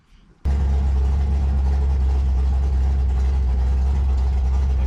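A Fox Body Mustang engine fitted with a Holley Sniper fuel injection runs on a dyno, bursting abruptly into a loud, sustained low rumble that holds steady; no talk.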